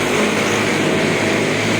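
Jeepney engines on Quezon Street near the Pasig River Esplanade drone loudly and continuously, a dense close mix of idling and revving motors with no talking.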